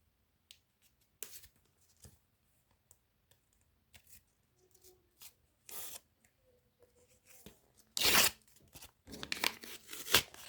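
A small secret sticker packet is torn open by hand, with scattered soft crinkles and rustles that build into a few sharp, loud paper rips near the end, close and otherwise quiet.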